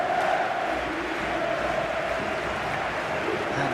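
Ambient stadium crowd in a football video game, a steady far-off murmur of many voices that fills the background, with a commentator talking over it.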